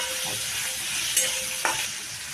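Coriander seeds, pepper, urad dal and chana dal tempering in hot oil for a Tamil Nadu style leaf dish, giving a steady close sizzle and hiss with a couple of brief louder spits and stirring clinks.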